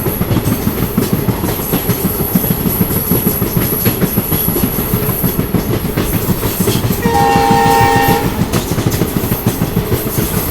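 A train pulls into Munirabad railway station, a steady rumble of rolling wagons with clatter throughout, then a loud sustained horn blast with stacked tones near the end.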